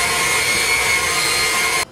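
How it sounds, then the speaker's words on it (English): A hand mixer whirs steadily and loudly through cookie batter for pumpkin oatmeal butterscotch cookies, a constant close motor drone that cuts off abruptly at the end. "I'm going to use the hand mixer for this as well"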